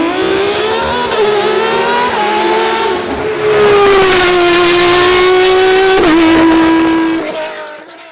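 A race-tuned BMW hill climb car engine on straight pipes revs loudly and steadily, its raspy pitch rising and dipping between gear changes, with a brief stumble before it fades at the end.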